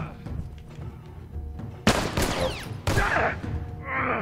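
Two loud gunshot blasts from The Last of Us Remastered crack out close by, each followed by a short decaying echo, with a brief exclamation from a voice just before.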